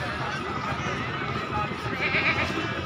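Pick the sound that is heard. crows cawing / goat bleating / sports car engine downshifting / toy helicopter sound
goat bleating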